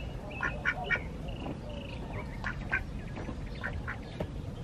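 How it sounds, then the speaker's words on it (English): Ducklings quack in several short, faint bursts over a dull outdoor background, with no talk heard. "Baby duckies!"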